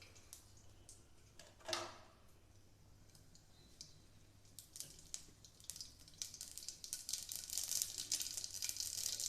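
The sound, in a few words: mustard seeds spluttering in hot oil for tempering kuzhambu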